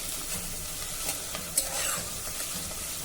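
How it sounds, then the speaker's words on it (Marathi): Crushed ginger and garlic sautéing with softened onion in a pan give a quiet, continuous sizzle with light stirring scrapes and a few small clicks, with no talking. "आता आपण यामध्ये 1 टेबलस्पून ठेचलेलं आलं लसूण घालूया। हे देखील आता आपल्याला छान परतायचं आहे।"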